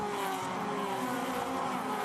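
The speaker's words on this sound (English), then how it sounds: "The little 2-litre 4-cylinder Toyotas pumping out about 180 kilowatts of power." Toyota 86 race cars with 2-litre four-cylinder engines racing at Sydney Motorsport Park, a steady, loud, continuous engine drone with sustained high revs and no pauses.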